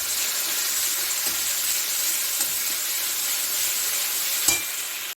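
Fennel paste sizzles loudly in hot oil with cardamom and cloves, a steady bright frying hiss with a few soft stirring scrapes and no talking.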